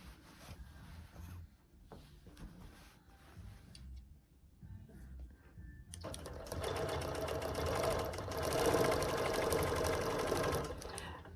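Sewing machine quilting straight rows of redwork lace, running fast and steady with a dense whirring stitch that grows louder and busier after a quieter start; no talking.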